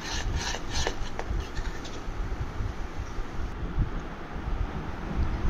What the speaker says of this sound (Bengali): ভালো করে ঘন না হওয়া পর্যন্ত অনবরত নাড়তে থাকবো।